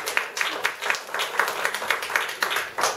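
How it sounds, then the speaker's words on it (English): Guests at a wedding clap for the groom Jeff, with a small group giving irregular, fairly close claps that rise and fall over a few seconds and no talking. "I think Jeff deserves a clap"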